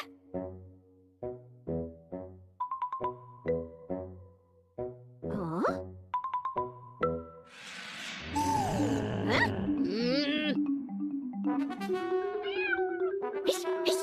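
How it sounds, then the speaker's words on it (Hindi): A cat meows repeatedly in short rhythmic calls, then breaks into a louder, drawn-out wailing and yowling, close and prominent. "अरे भाग कलूटी बिल्ली।"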